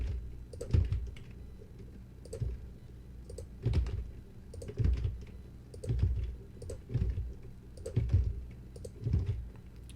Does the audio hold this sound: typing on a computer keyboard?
yes